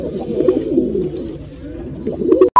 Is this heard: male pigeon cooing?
yes